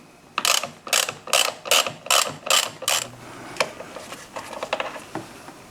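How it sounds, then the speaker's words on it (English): A ratchet with a 5/8 socket clicks on the primary drain plug of a Harley-Davidson Milwaukee Eight Street Glide, seven loud, even bursts of ratcheting close up, then a few scattered, quieter clicks and handling noises. "5/8 socket on the drain plug."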